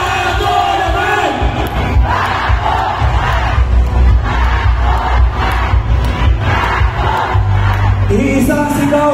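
A large crowd at a political rally in Pandacan, Manila chants in a steady rhythmic pattern and cheers loudly throughout, a dense roar of many voices with no pauses.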